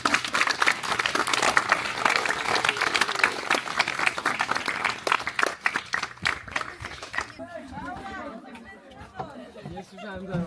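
Visiting firefighters receive applause at a youth fire brigade camp in Stęszewko: a loud, sustained burst of clapping and crowd chatter for about seven seconds, then fading into talk and quieter voices.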